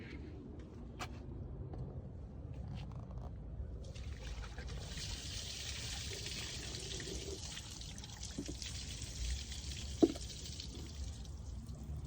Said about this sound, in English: About to go pour it out and see what it looks like. Pour it out over here.